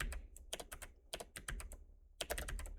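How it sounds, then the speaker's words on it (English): Keys clatter on a computer keyboard in quick bursts of close, crisp clicks separated by short pauses, with no talking. "for now, we're just going to type hello"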